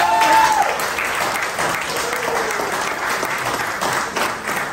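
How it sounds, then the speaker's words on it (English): An audience claps loudly in sustained, dense applause, a steady wash of hand claps that fills the room from start to finish after a brief tone at the beginning. "Can I get a goddamn round of applause?"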